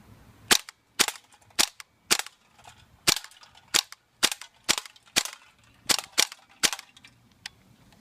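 A GHK gas blowback airsoft rifle fires a magazine in a string of a dozen sharp, loud cracks at a slightly uneven, steady pace, close up with nothing else heard.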